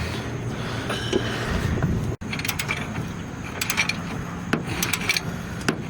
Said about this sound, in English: we're breaking the other bolts loose on the bottom of the strut